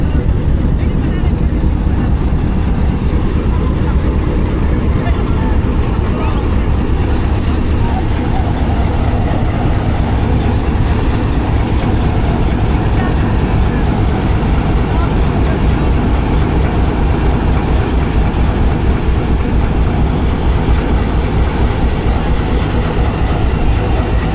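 Locomotives idle and move at Attock City Junction in hot weather, a loud, unbroken low engine rumble filling the whole stretch, close by with no clear pauses.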